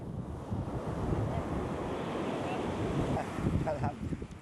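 Ocean surf washes and rolls continuously on a Lombok or Bali shore, with wind buffeting the microphone throughout.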